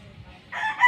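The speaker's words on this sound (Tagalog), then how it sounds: "Ang ganda ng manok mga Katrabaders" A rooster crows once, short and close, over a faint muddy farmyard background after rain.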